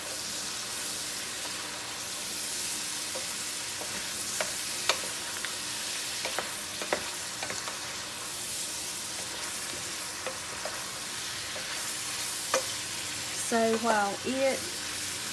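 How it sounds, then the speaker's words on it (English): Ingredients for a seafood and fish stew sizzling in a pan while being stirred, a steady frying hiss with occasional utensil taps, and a voice speaking briefly near the end. "And I'll give it a stir."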